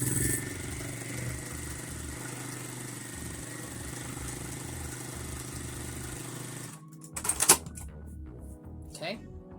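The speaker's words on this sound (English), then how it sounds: "I'm going to set that stitch to the basting stitch and then stitch all the way down" A sewing machine runs steadily on a long basting stitch along fabric for a ruffle, a continuous mechanical whir that stops abruptly, followed by a few brief clicks and handling sounds.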